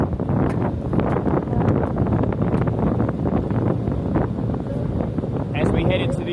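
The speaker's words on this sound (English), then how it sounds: "Now the wind is blowing up here, so I am sorry. It's going to be blowing pretty strong." Strong wind gusts at a Japanese ferry port, buffeting the microphone with a steady, loud roar and rumble that persists throughout, with faint rustling and a brief higher tone near the end.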